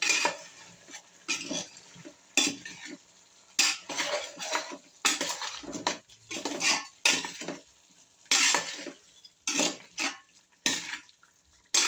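A spoon stirs chicken curry seasoned with chili powder and salt in a pot, giving repeated bursts of metallic scraping and clanking separated by short pauses, close and fairly loud with no talk.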